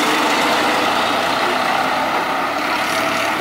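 A heavily tuned tractor engine driving: a loud, steady roaring drone with gritty low rumble, close by, with no voices.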